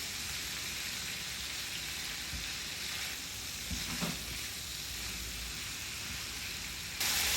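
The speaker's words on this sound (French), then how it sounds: "je filtre et je fais cuire le restant de mon poisson" Fish for pastilla fries in a pan with a steady dense sizzle and crackle throughout, a few soft clinks and stirring bumps surfacing in the middle.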